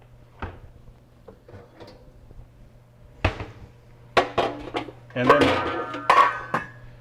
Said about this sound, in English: Let me grab a pan out of here.